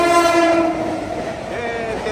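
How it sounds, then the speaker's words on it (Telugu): Flying Ranee non-AC double-decker express train running alongside and overtaking a local train, a loud steady rumble with bright horn-like tones that sustain then shift, close and continuous. "మన ట్రైన్ ఒక లోకల్ ట్రైన్ ని ఓవర్టేక్ చేస్తుంది"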